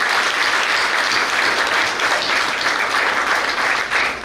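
Sustained, loud audience applause at a professor's retirement ceremony, a dense wash of many hands clapping evenly from start to finish without speech.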